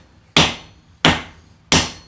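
Three sharp hammer blows on a metal workpiece, evenly spaced about two-thirds of a second apart, each a loud bright strike with a quick ringing decay, close and alone.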